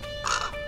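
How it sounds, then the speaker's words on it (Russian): A single crow gives one short, harsh caw in the video game Ministry of Broadcast. It is brief and fairly close over a quiet background. "Что за ворона такая?"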